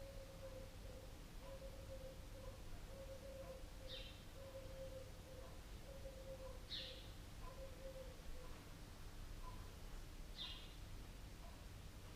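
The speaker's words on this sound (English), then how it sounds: "Birds tweeting, pigeons cooing, the rustle of leaves in the tree" Birdsong and pigeon cooing drift in from a distance: a steady repeated tone plus three sharp chirps spaced seconds apart, over a soft constant hum of background noise.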